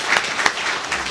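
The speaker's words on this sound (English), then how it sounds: "So let's give a big applause to both these" Audience applause in a lecture hall at a distinguished lecture event, a short burst of steady clapping with a few louder peaks and no talking.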